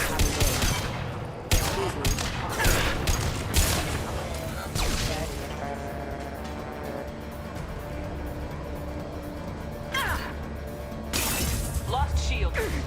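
A grenade blast and sharp volleys of gunfire in a sci-fi shooter firefight, loud bursts at the start and end with quieter combat between, as in-game voices call out over the action.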